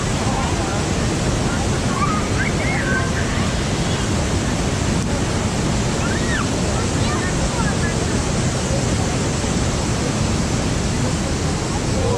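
The Manavgat waterfall in Side, Turkey, sends out a continuous broadband rush of falling water, steady and enveloping from start to end, with faint voices barely audible beneath it.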